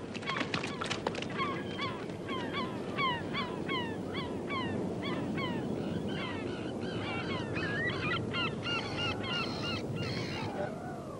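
Loud, busy chorus of waterfowl honking and quacking continuously, many birds at once calling over each other with no talking.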